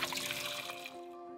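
Cold water runs steadily into a pot of starchy potatoes, a continuous close pouring and splashing that thins out toward the end.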